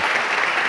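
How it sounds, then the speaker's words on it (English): An audience claps warmly for a speaker at a talk, a brief dense burst of steady applause. "let's give Alex a round of applause"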